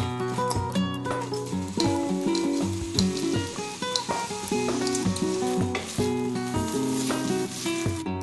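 Vegetables sizzle and crackle steadily in hot butter in a pot, a close, continuous frying hiss with occasional sharper pops and stirring.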